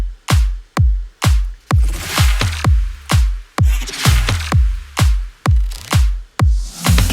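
Electronic drum loop with a punchy, evenly pulsing kick, layered claps and swelling reverse effects, loud and rhythmic, repeating throughout with no voices.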